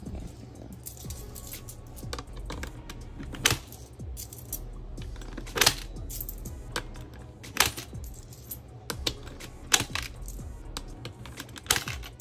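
Coins are handled and counted, producing repeated sharp metallic clinks and small drops at irregular intervals, close and clear over a faint steady hum, with no talking.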